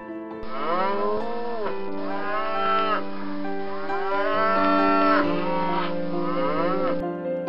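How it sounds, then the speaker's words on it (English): Blonde d'Aquitaine cattle moo repeatedly in long, rising and falling calls, several overlapping, loud and close, with no talking. "Known as the king of cows, blonde Aquitaine cattle"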